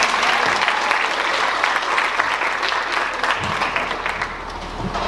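Audience at a school speaking event applauds steadily, a dense, loud, continuous wash of clapping with some cheering throughout.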